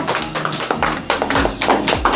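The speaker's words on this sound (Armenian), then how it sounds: "մի ծափեր տվեք" Rhythmic hand clapping from a group of guests at a family birthday party, steady and close, with music playing underneath.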